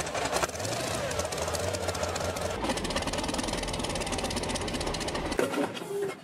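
A Ka-26 helicopter's radial engine rumbles and knocks at a steady idle after starting up, loud and close, with a clattering mechanical beat throughout.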